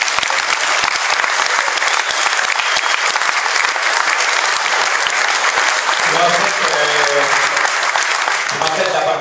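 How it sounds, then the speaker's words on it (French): An audience claps loudly and steadily for several seconds to honour a team captain, dense continuous applause; toward the end a voice or some singing rises beneath it. "j'aimerais juste qu'on l'applaudisse vraiment beaucoup"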